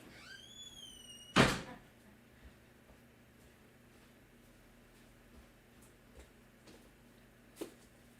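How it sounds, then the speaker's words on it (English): A house door is opened after someone knocks, heard as one loud sharp thunk near the start, followed by a few faint knocks and clicks in a quiet room. "Open the door."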